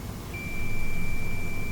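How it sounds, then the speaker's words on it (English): A multimeter gives a single sustained continuity beep while testing the windings of a three-phase induction motor, a steady pure tone that starts abruptly and holds over a low background hum. "You can hear the beep sound"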